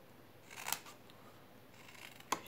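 Scissors cutting the corners of a paper card box, two distinct crisp snips about a second and a half apart against faint background noise.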